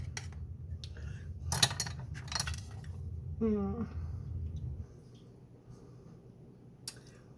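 A knife slices down through a loaf of hot banana bread, making a few soft scraping, squishy cuts and light clicks against the board, close and quiet, with a voice briefly present.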